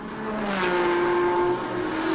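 Toyota Supra GT4 and Mitsubishi Evo race cars pass on a circuit, engines droning loudly with rising and falling tones as they sweep by at the Bangsaen Grand Prix.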